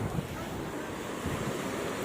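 Ocean surf at Shivrajpur beach near Dwarka rolls in as a steady, dense wash of breaking waves, with wind buffeting the microphone throughout and no voices.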